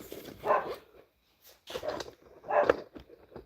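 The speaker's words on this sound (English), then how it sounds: "Sorry about the barking, guys." A dog barks in a few separate bursts: a couple of sharp barks, a pause, then more barking, fairly close in an indoor room with no talking.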